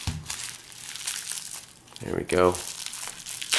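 Individually wrapped packs of Magic: The Gathering trading cards being opened, crisp crinkling of plastic wrappers and paper envelopes up close, with someone speaking briefly in the middle.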